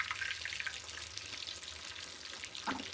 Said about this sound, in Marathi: भरपूर बट्ट्या त्यात टाकले आणि तळून घ्यायचे